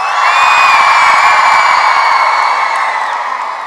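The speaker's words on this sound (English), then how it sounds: "by show of screams, who here is at their very first WeDay?" A large young audience at a WeDay youth event screams and cheers at full volume, a loud, sustained high-pitched roar of many voices that fades slightly toward the end.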